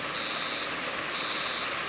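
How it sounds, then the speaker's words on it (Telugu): An alarm beeps inside a Roblox video game, two steady electronic tones about a second apart, fairly loud over a constant background hiss. "అలారం ఎందుకు మోగుతుంది"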